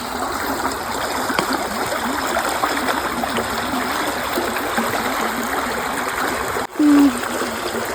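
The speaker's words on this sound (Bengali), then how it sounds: "ভালোই তো স্রোত রয়েছে।" Water current in a canal rushes steadily and loudly throughout, a continuous close gurgling flow with a brief dip near the end.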